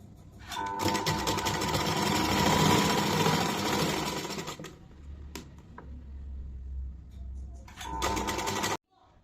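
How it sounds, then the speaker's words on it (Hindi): A sewing machine stitches the side seam of a jumpsuit in a loud, fast, even run that slows and stops, followed by quiet handling, then a second short burst of stitching. "अब साइड से हम इसको फिटिंग के लिए स्टिच करेंगे।"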